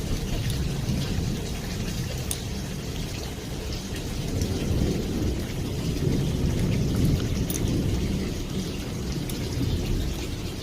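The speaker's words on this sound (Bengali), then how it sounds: "শিল পড়ছে, মেঘ ডাকছে, বৃষ্টি হচ্ছে।" Dense rain and pelting hailstones hammer down continuously amid gusty wind, with deep thunder rumbling beneath and occasional sharp hits.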